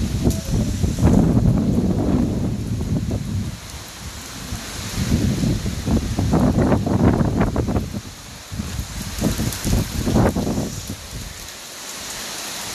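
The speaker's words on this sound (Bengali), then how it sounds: "ভীষণ হাওয়া দিচ্ছে" Strong wind blows outdoors around a house during a rainy spell, gusting in loud rushing surges that buffet the microphone, rising and falling with rustling over a steady rain-like hiss.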